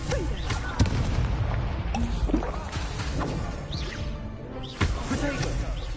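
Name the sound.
Confringo spell explosions in video game Hogwarts Legacy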